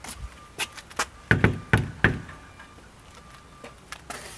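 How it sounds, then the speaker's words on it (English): Knuckles rapping on a shop door: a few scattered knocks, then a tight cluster of sharp raps, close and crisp over a quiet room. "Let's go over here and knock on this door and see if anybody's home."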